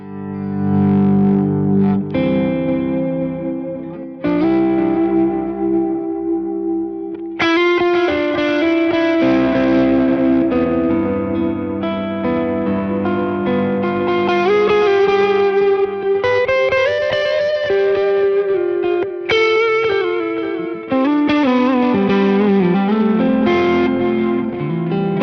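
Electric guitar run through a Sunset overdrive pedal with delay, playing chords and melodic lines with a thick, distorted, sustained tone; loud and continuous, alone with no talking.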